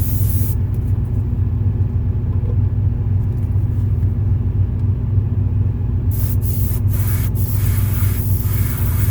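An airbrush sprays paint onto a Marvel vs. Capcom Wolverine model figure in a steady continuous hiss, with a few short stops near the end, running over a loud constant low hum.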